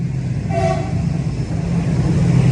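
A train runs on the railway beneath the Bogibeel bridge over the Brahmaputra river in Assam, a steady, loud low rumble with a brief faint horn-like tone near the start.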